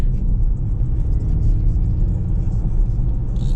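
A 2024 Ford Mustang Mach-E electric car makes a steady low road rumble and tire noise from inside the cabin as it picks up speed, with a faint whir on top.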